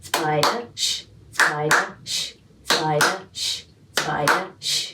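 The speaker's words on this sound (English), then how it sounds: "So to clap it, it sounds like this." A voice chants the word "spider" rhythmically while its syllables are clapped out, with soft hand claps and hushed shushing in a steady repeating pattern.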